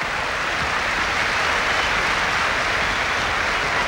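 A big stadium crowd at a Newcastle United versus Liverpool football match applauds in a steady, dense roar of clapping that holds at an even level from start to finish.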